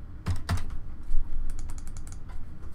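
Fingers type on a computer keyboard during a session of the space game Elite Dangerous, with a couple of heavier key strikes followed by a quicker burst of clicks, close and clear with no talking.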